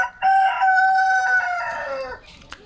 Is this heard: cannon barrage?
no